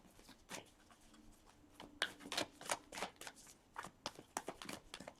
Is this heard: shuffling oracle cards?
yes